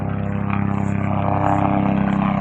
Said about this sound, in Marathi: ते आले हेलिकॉप्टर सुद्धा आलेलं आहे